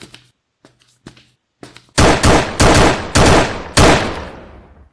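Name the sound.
gunshots in a video game shooter system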